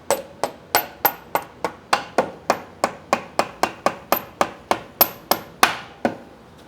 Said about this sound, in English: see me hitting this with a hammer, that is a rubber hammer